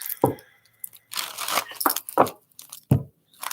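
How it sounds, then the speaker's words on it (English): A deck of tarot cards is shuffled by hand in several quick papery bursts of riffling and crinkling, separated by short pauses, close and fairly loud with no talk. "I'm just getting some good shuffles in here for you."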